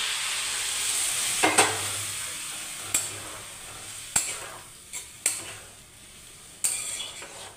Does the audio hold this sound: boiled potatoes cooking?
yes